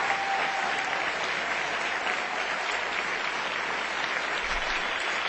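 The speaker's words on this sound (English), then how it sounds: "Give Bob a big round of applause." A political rally crowd claps in a steady, full round of applause, many hands blending into an even, moderately distant wash that continues without pause.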